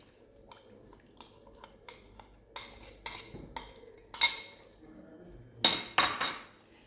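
Pork roast being mixed in a dish with poultry stock and tamarind liqueur, a series of close clinks and scrapes of a utensil against the dish with wet dripping, louder clatters near the end.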